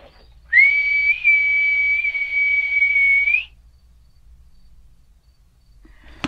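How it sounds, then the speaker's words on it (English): A person whistles outdoors at night, a single sustained clear tone lasting about three seconds with a slight waver, loud and close, followed by near silence with a faint low rumble. "I'm gonna go ahead and whistle."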